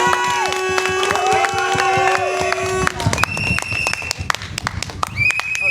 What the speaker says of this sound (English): Can we have a big round of applause for Harry?